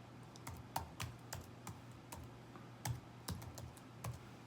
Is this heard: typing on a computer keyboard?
yes